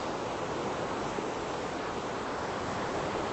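A raging river rushes below a suspension bridge, a dense, unbroken roar of water with some wind buffeting the microphone, no voices.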